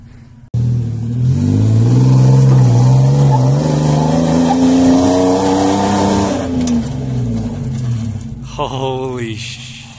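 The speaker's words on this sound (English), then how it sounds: "These are like really grippy tires and they're slipping down the blooming thing." Off-road vehicle on grippy tires strains up a steep slope, its engine droning loud and steady with rising and falling pitch for most of the run, then easing off as excited voices break in near the end.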